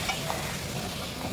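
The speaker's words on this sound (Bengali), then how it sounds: "1/2 কাপ জল দিয়ে দিচ্ছি" Half a cup of water is poured into a pan of cooking hog plums for a sweet-sour-spicy pickle, giving a brief, steady rushing hiss.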